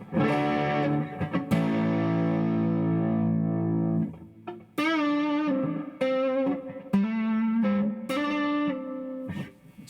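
Electric guitar, a Sire T3, through a Tube Screamer overdrive playing sustained chords and then a run of separate notes, warm and gritty, loud and close with no voices.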